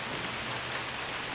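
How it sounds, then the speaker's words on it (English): A heavy rain downpour pours down outside, a dense, steady hiss of drops close by, continuous and without talk. "And now it's downpouring."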